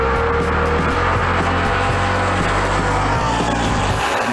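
A race car engine roars loudly and continuously at a motorsport event, with a sustained dense mechanical drone that holds steady throughout, an engine note rising slightly near the end.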